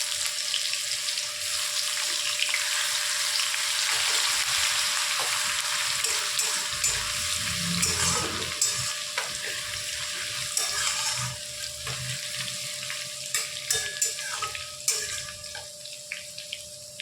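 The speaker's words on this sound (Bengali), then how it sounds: "থেতো করা আদা রসুনটা একটু তেলের মধ্যে নেড়ে নিয়ে" Crushed ginger and garlic with green chillies are stirred in hot oil in a pan, giving a steady sizzling hiss throughout with scattered light clinks and scrapes from the spoon, close and without talk.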